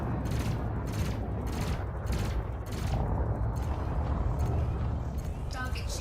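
Ship turrets fire in the Elite Dangerous space game as a steady run of rapid regular pulses over a dense engine rumble, continuous and fairly loud, with a voice briefly over it.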